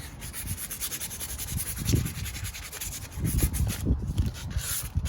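Sandpaper of 120 grit rubbing over a plaster surface, a steady rasping scrape in repeated back-and-forth strokes, close and fairly loud with no talking.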